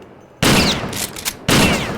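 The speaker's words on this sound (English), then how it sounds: "This looks like a shotgun." Two loud, close shotgun blasts in the RealRTCW game, each a sharp crack that trails into a short echoing decay, about a second apart, with a faint rattle between them.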